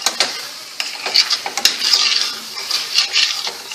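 A utensil stirs onions into soup in a pot, scraping and clinking against the metal in an uneven series of close, moderately loud knocks and swishes.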